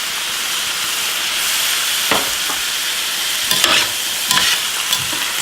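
Food frying in a pan hisses steadily while a utensil stirs it, with several distinct scraping clacks standing out above the sizzle, close and fairly loud.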